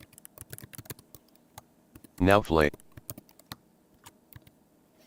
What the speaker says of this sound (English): So now I'm going to start typing.